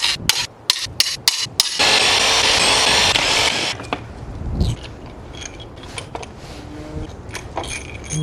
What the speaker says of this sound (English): next up I'm gonna work on these main cap bolts. The 13mm ones that are cross-bolted on either side